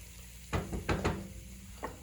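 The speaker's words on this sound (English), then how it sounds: "Just going to sear the meat and then remove it from the pan." Beef chunks searing in a hot pan for beef noodle soup, with a soft steady sizzle under a few bursts of scraping and stirring close by.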